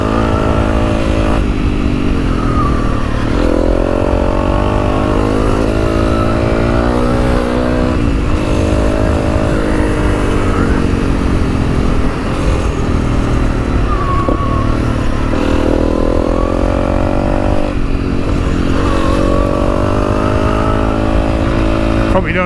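Honda CRF300L Rally motorcycle ridden on a rocky trail on Quartz Mountain, its engine droning steadily and loudly throughout with rising and falling revs, wind buffeting and a rider's voice talking over it.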